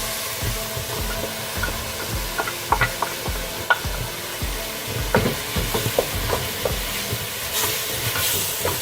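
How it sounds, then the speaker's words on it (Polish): Celery and parsley fry with bacon and onion in a pan over high heat for a soup: a constant hiss and sizzle broken by scraping stirs and light clicks of a utensil. "Posmażam wszystko cały czas razem."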